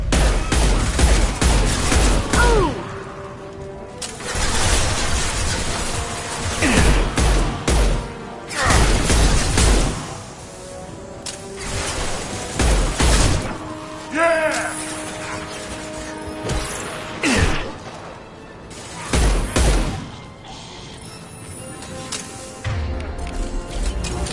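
Weapon fire in Mass Effect 2 Legendary Edition comes in loud separate bursts and volleys with short pauses between them, along with impact crashes, and faint voices now and then.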